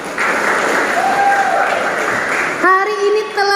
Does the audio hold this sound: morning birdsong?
no